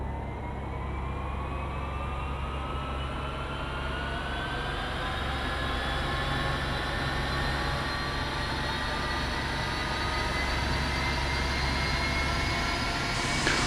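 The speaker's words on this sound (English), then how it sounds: "Our next step is to start our two engines." Twin jet engines spool up in the DCS flight simulator, a steady roar with rising whining tones that climb gradually in pitch over several seconds, continuous and fairly loud.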